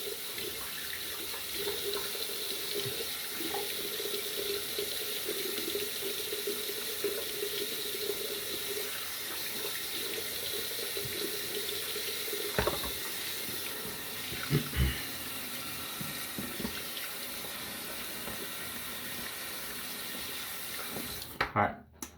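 Water runs steadily from a bathroom tap into a sink during rinsing after a head shave, a constant near hiss with a few faint knocks and splashes before it cuts off at the end.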